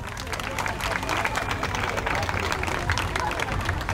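Audience at a live music performance applauding steadily, a dense continuous wash of clapping mixed with crowd noise that holds at an even level throughout.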